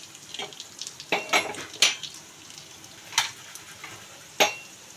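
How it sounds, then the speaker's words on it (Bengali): Cashews frying in a pan for a cashew chicken dish, heard as soft sizzling with close clinks and scrapes of a spoon stirring against the pan at irregular moments, no voices. "দেখো কাজুটা হালকা ভাজা ভাজা হয়ে আসছে"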